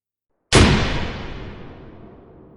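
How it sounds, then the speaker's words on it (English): A single sharp, close gunshot bursts out of silence and then rolls off into a long, fading echo. "a gunshot. Loud, sharp, and close."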